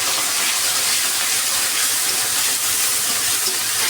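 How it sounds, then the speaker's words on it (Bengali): Onion and cumin paste frying with potatoes in a pan, a steady, loud, broadband sizzle and hiss running continuously with no talk. "আলুর সাথে ভেজে নেব।"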